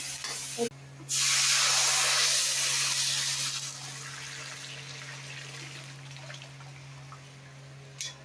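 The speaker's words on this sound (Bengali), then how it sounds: "সব ডাল ঢেলে দিলাম প্রেসার কুকার থেকে, ফোড়ন দিয়ে দিলাম" Cooked red lentil dal poured from a pressure cooker onto a hot tempering of five-spice and crushed garlic, giving a loud hissing rush that swells suddenly, then fades into a low simmering crackle under a steady hum, with a couple of knocks.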